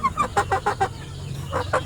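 A sick chicken, just injected with medicine, clucks up close in a quick run of five or six sharp clucks, falls briefly quiet, then gives two more.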